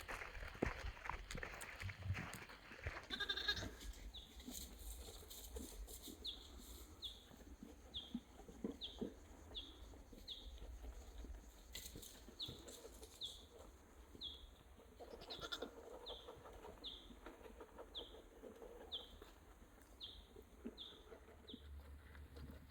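Newborn lamb bleating in a farm setting, with a series of short, evenly spaced high calls over steady background noise and a louder rustle near the start.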